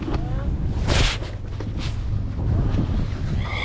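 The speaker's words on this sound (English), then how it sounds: "It's crazy how the wind's up now" Strong wind gusts across a lake around a crappie fishing boat, a loud continuous rush of microphone wind noise with surges, while someone talks over it.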